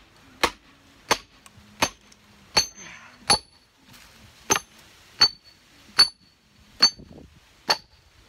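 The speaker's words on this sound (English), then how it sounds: "Oh, I can get it with a regular hammer." A regular hammer splits a dry wood log with about ten sharp, evenly spaced strikes, each a loud close crack with a metallic ring, with quiet gaps between blows.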